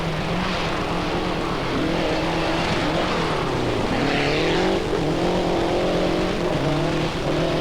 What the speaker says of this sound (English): the Renault sounding just as sweet as ever